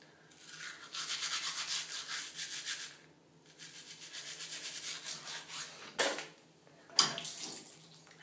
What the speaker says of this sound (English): It's a bit of a random series of me brushing my teeth every night.